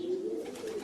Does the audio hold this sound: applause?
no